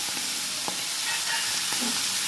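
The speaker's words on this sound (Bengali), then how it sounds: "এবার এই নুন হলুদ মাখানো চিংড়ি মাছটাকে ভেজে নেবো" Shrimp coated in salt and turmeric fry in hot oil in a pan, making a continuous bright sizzle with a couple of faint stirring clicks and no speech.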